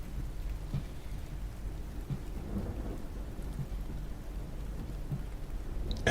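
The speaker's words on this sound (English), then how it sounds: "Are you sitting outside in the rain?" Steady outdoor rain patters on surfaces throughout, with low rumbles of thunder rolling underneath at a moderate distance and no voices present.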